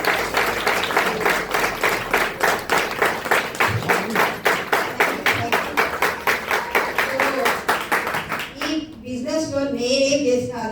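An audience claps in steady applause for a woman named Bhargavi at a talk on process for success, the claps dense and even for about eight seconds before a voice begins speaking over the fading end.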